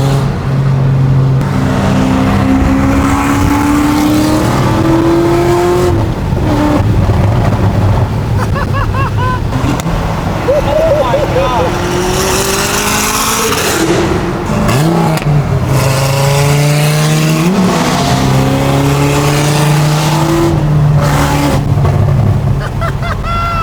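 Cars race hard in pursuit of a Viper, engines revving and shifting through rising and falling pitches, loud and close with heavy wind buffeting the microphone.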